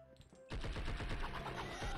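Sustained rapid automatic fire from an AK rifle in the video game Blood and Bacon, a dense close rattle of shots that bursts in suddenly after a quiet moment and keeps going.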